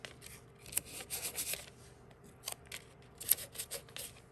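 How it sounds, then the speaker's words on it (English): Masking tape is torn by hand to secure the corners of a frame, heard as a few close, short crackling rips with papery rustling and handling noises between them, quiet overall. "You tear masking tape. So I'm going to tear it and secure my corners."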